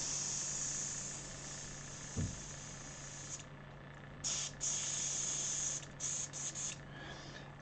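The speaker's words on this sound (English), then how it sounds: "this white gouache is a little bit tricky to airbrush, as white has a lot more pigment in it." Airbrush spraying white gouache paint gives a steady close hiss that cuts out and restarts in several short bursts, with a faint knock partway through and no talking.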